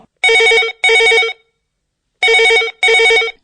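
A telephone rings for a call-in to a farm advice radio programme, two loud pairs of electronic bell trills separated by a pause.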